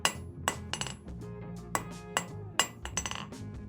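Hand hammer tapping a hot steel taper on an anvil while blacksmithing, giving several sharp metallic clinks spaced irregularly over a low background hum, close and moderately loud, with no talk.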